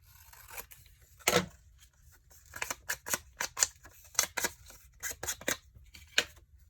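Scissors cut a printed quote out of paper for a friendship journal, producing a series of crisp, close snips in an irregular rhythm, one louder cut early and then many quick ones, in a quiet room.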